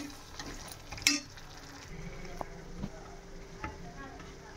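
Coriander powder and other spices are stirred in a pan for a phool makhana tomato masala curry. A soft, faint sizzle runs throughout, with light scrapes and a few small clinks of the spoon.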